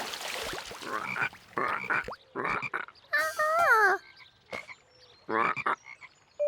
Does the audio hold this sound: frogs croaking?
yes